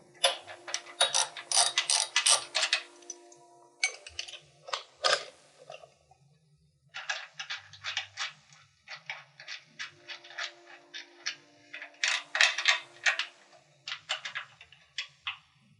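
A socket wrench ratcheting off a garage door torsion spring tube retainer with a 9/16 socket, close, quick clicking runs in several bursts separated by brief pauses.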